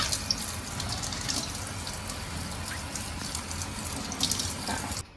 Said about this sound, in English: You just pull off these little fuzzy pieces, give it a little rinse